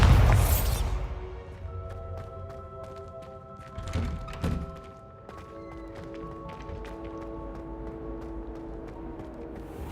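Bombarda spell blast in Hogwarts Legacy: a sharp, loud burst at the start that quickly fades into quiet ringing tones, followed a few seconds later by a softer thud.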